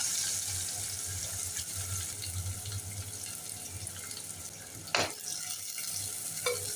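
Cumin, asafoetida and onion frying in hot oil for mutton biryani, a soft continuous sizzle with a low hum and a single sharp clatter near the end.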